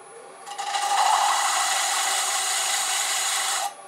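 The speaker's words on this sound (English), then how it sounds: "we can use a disc sander" A disc sander whirs up, runs steadily as it sands the edge of a turned wooden Christmas tree ornament, then cuts off, a close, bright grinding hum lasting a few seconds.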